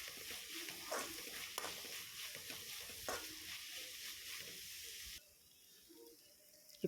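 Onion and tomato sauté in a hot pan for kothu parotta, a continuous loud sizzle broken by scraping stirs; the frying drops suddenly quieter near the end.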